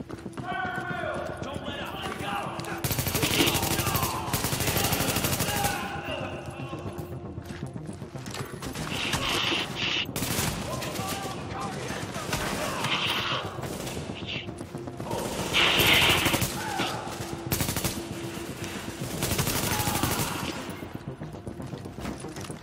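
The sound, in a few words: gunfire in the video game The Division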